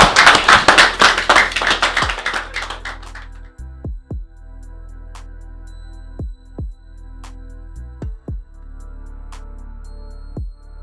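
Brief burst of clapping from a small audience at a community event in Lyon, close and lively for about three seconds, then dying out into a few scattered claps and knocks over quiet room tone.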